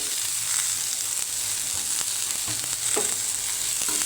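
Coriander seeds and cumin dry-roasting in a pan for a ridge gourd gravy, giving a steady close sizzle broken by the faint scrape and rattle of stirring, with no voices.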